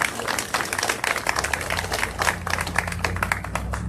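A church congregation applauds during a worship service, a dense wash of many hands clapping steadily for several seconds, close and fairly loud.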